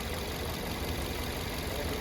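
A Suzuki Grand Vitara engine runs on propane, giving a steady, close idle with a dense, rough, even drone and no break.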